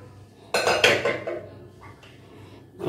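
A ladle stirs okra (lady's finger) sambar with cooked dal in a metal pot, giving scraping clanks that burst loudly early, fade into softer rattles, and return with a final clink; no one speaks.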